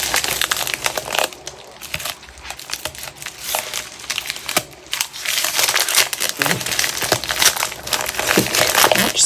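Crinkly packaging is torn and crumpled open in a long run of bursty, close ripping and rustling that builds toward the end, with no talk.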